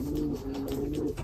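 Pigeons in a pigeon loft during the moulting season, giving a close, steady low cooing that rolls on continuously without pause.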